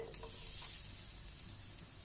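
Onion sizzling in hot oil in a pan for a lamb liver dish, a steady soft frying hiss with faint stirring clatter, fairly quiet and continuous, with no talk.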